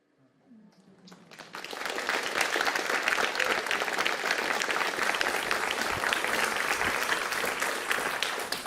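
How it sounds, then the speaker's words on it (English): Audience applause at a live comics event, starting thin and swelling within a second or two into sustained, dense clapping from a sizable crowd that holds steady to the end. "Can we get a round of applause for everyone, especially Julia?"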